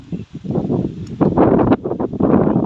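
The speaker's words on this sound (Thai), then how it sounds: "ลมแรงครับพี่น้อง" Strong gusty wind from a storm blows over rice fields in northeastern Thailand, roaring and buffeting the microphone loudly and continuously with rustling surges, and no one talks.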